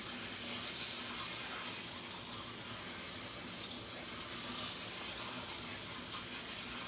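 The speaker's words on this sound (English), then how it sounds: "my potatoes and my celery and my carrots. Let them soak and rinse." Water runs steadily from a tap into a sink as potatoes, celery and carrots are rinsed, an even broadband wash with no breaks or talking.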